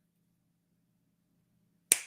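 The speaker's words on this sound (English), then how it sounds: "snap my fingers" A single crisp finger snap rings out sharply after nearly two seconds of near silence, close and alone.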